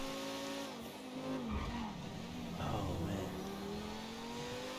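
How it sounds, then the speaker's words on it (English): Supercar engine fitted with engine upgrades and a turbo in the video game GTA V, revving hard with tire squeal and skidding, rising and falling in pitch as it accelerates, fairly loud and close. "So I got the engine upgrades and the turbo installed on this."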